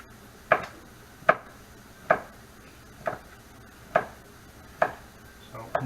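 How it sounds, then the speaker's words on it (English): Bacon chopped with a knife on a board: seven crisp, evenly spaced knocks at a steady rhythm, close and clear over a quiet room. "we'll just chop up our bacon"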